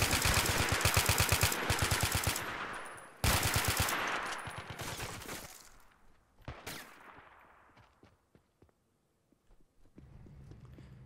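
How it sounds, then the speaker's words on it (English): Gunfire erupts in a video game as a checkpoint comes under attack: dense bursts of rapid automatic fire, then a pause and scattered single shots that thin out toward the end. "The attack has begun, mostly from down this road. This checkpoint is taking a lot of fire."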